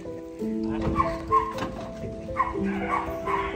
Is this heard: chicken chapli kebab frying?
no